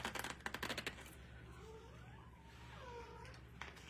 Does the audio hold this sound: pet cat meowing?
yes